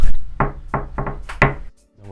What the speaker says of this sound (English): I'm going to knock on their door right now and ask if that is for sale.